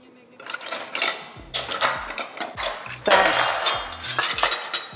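Small metal measuring spoons clink and rattle together up close, a series of bright jangling taps in quick bursts.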